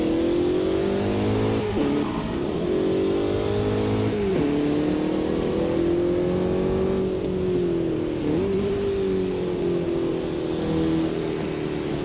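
The Formula Vee Gen2 race car engine in the Automobilista 2 racing game drones steadily and loudly, rising through the gears with brief dips at each shift, alone at the Sebring school track.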